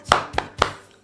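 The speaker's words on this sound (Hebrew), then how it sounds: "מחיאות וטפיחות" Hands clapping and patting in a children's song about kindergarten, three sharp, close claps in an even rhythm with nothing else around them.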